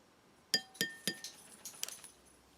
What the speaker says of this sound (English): And we'll give this a stir.